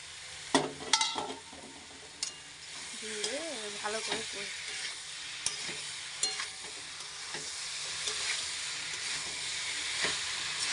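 Pointed gourd and potatoes hitting hot oil with shrimp, a sharp sizzle followed by steady frying, spatula clatters and stirring scrapes, and a brief faint voice partway through.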